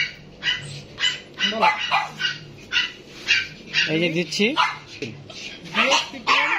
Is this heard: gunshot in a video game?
no